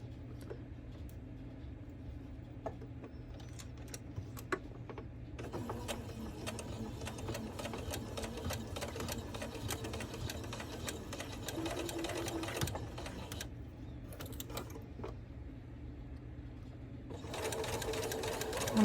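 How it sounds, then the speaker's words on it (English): A sewing machine stitches steadily along a marked line on fabric, its motor whirring continuously in bursts with brief pauses, close and fairly loud, no talking. "I'm just sewing right along that pink line till we get down here."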